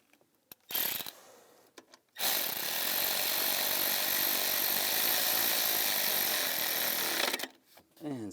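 A power tool drives in a bolt while a fuel tank vapor vent check valve is replaced on a 2014-2018 GMC Sierra 1500 5.3L. After a few brief knocks, a loud, continuous mechanical ratcheting whir runs for about five seconds, then stops abruptly.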